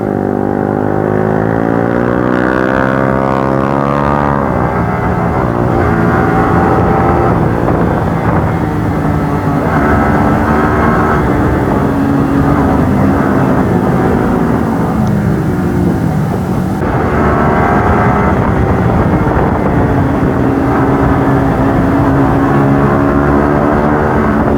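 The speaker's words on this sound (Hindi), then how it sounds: "बाइक्स देख रहे हो कितनी सारी आ रही हैं आज।" A steady roar of many motorcycles passes on a hill road, a continuous loud engine and wind rumble with a slight surge partway through, no voices over it.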